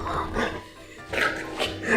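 A dog at a home grooming session makes short whimpering, yipping vocalizations, close and fairly loud, with people talking around it.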